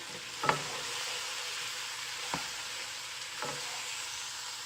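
Ginger and white onion fry in a pan for a chicken stew, a quiet even sizzle broken by three brief stirring scrapes, close and alone without talk.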